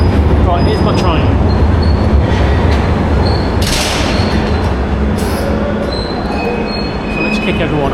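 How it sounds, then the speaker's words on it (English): A London Underground Piccadilly Line train rumbles loudly close by, wheels clattering and squealing with bright metallic screeches, a steady roar throughout with brief higher shrieks midway. "Right, here's my train."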